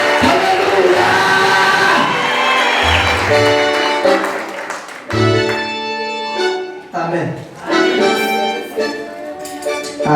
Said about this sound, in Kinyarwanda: Komera Imana amashyi cyane.